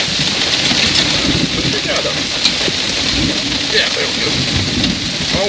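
Heavy rain pours steadily in a lightning storm, a dense continuous hiss with low rumbling thunder underneath, loud and close throughout.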